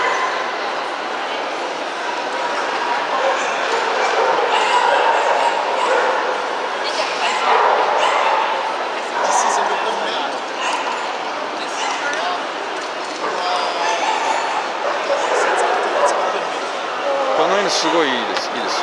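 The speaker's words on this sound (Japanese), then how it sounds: "わお、でかいなこのバーニーズ。" A large Bernese Mountain Dog barks and yips at a European dog show in Paris, its repeated barks and whimpers mixing with hall chatter and a nearby voice talking.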